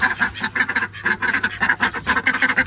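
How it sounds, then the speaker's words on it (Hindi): Ducks quack steadily in a noisy chorus just after being let out, the calls overlapping in a near, continuous burst without pause. "अब अपने डक्स को खोल देता हूँ"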